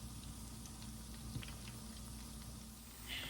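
Hush puppies frying in oil in a pan, a soft continuous bubbling with faint pops, low and steady throughout.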